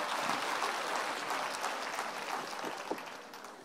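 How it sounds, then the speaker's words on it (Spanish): Applause from a church congregation at a Sunday service, steady dense clapping filling the room at moderate level throughout, with no talking over it. "Va, denle un aplauso al rey bendito."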